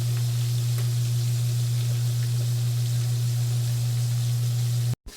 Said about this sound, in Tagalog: Maganda yung pagkaluto ng prito natin.